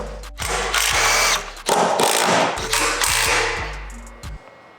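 A power tool rattles in several bursts while unbolting the one-piece aftermarket exhaust from a BMW G87 M2, loud and close, with short pauses between each fastener.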